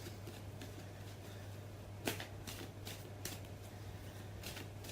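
A deck of cards shuffled by hand, close and quiet, as a steady papery riffling broken by a few crisp snaps, with no voices.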